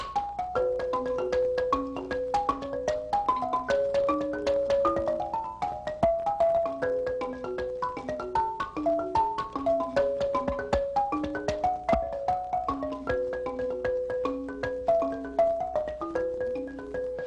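Bright wooden balafon notes ring out in quick, rippling melodic patterns, a steady stream of struck tones with a buzzy resonance, played close and fairly loud.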